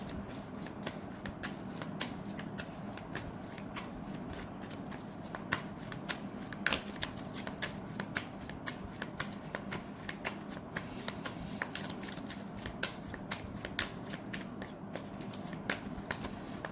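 Tarot cards are shuffled quietly and continuously, a soft stream of rapid riffling clicks and flutters with a few sharper snaps, heard alone and close.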